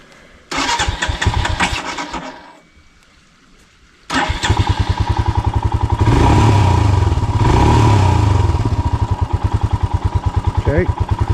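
A Royal Enfield Himalayan 411 motorcycle cranks and starts, cuts briefly, then fires again and settles into a loud, close, rhythmic thumping idle with revs.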